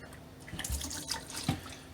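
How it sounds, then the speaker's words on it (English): Leftover antifreeze is poured into a sink P-trap while a boat is being winterized, giving a soft, faint trickle with a few small splashes and gurgles. "Take my extra antifreeze, and if you really don't want to waste anything, you pour that in your P-traps"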